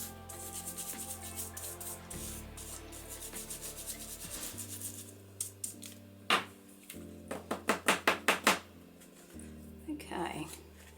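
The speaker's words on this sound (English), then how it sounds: "You just put your flake on top of your gel and then rub over them with a brush." A brush rubs metal flakes down onto gel on paper for a junk journal page. The soft, scratchy rubbing comes in short repeated strokes, close and quiet, with a rhythmic burst of quick strokes near the end.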